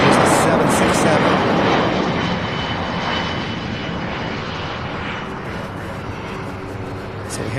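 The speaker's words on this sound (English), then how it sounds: "this will be our first UPS departure here, the 767." A UPS Boeing 767 jet departs Louisville airport with a loud, broad engine roar that peaks at the start and slowly recedes into a fainter rumble as the aircraft moves away.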